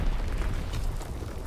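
A bombing run explodes in a Call of Duty: WWII match, a deep, rolling, continuous rumble of blasts and bursts over about a second and a half.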